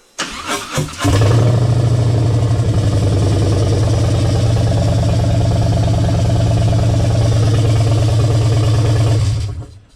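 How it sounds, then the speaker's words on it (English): A Harley-Davidson Road King Special fitted with a Screamin Eagle intake manifold fires up and settles into a steady, loud, low idle with an even lumpy beat, running alone close by until it shuts off near the end. "It idles a lot lower than it used to, so that's good."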